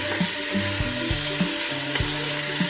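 Mutton pieces frying in a hot pan for a badami mutton korma, a steady dense sizzle with a few sharp knocks of a spoon against the pan, close and continuous.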